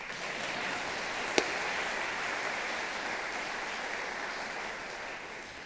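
Audience applause at a teachers' awards ceremony, a soft, steady wash of clapping heard from a distance throughout, with one brief sharp crack near the start.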